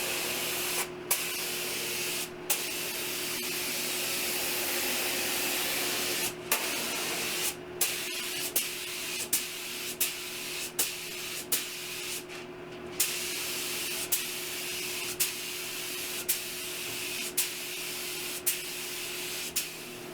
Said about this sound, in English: here I'm spraying the 3 coats of the pre-cat lacquer